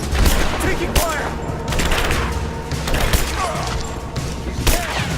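Gunfire during a firefight in the Rise of the Tomb Raider video game, set in an abandoned mine: loud overlapping shots and booms crackle continuously, with voices shouting over the battle.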